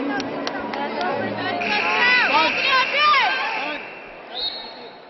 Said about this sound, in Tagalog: Look at this crowd here, ladies and gentlemen.